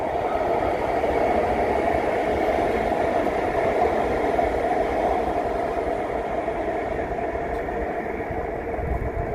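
An REM light metro test train runs along the tracks, a steady, continuous rumble and hum of the passing train at moderate loudness with no break.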